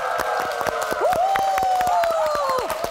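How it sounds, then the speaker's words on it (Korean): A studio audience on a Korean KBS broadcast music show applauds and cheers for singers, with dense rhythmic clapping and a rising whoop. "큰 박수 부탁드립니다"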